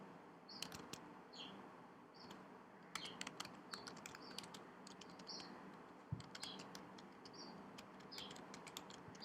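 Fingers tap on a computer keyboard in scattered bursts of faint clicks over quiet background hiss, with no voices heard.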